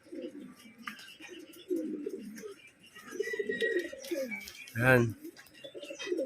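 Homing pigeon back from a rain-soaked training flight, giving soft intermittent coos amid other birds chirping, while someone talks throughout and one sharp nearby sound stands out.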